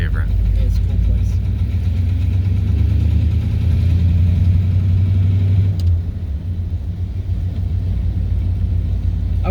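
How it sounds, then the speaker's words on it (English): Classic car engine running steadily on a drive, a continuous low rumble that stays even throughout with a slight dip partway. "I would drive this car anywhere, Mike."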